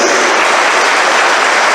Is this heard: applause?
yes